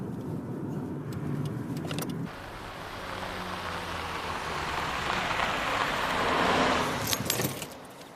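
A car drives along, its steady road rumble and engine hum filling the cabin, with a soft rain-like hiss and a few light rattles on top; no one speaks.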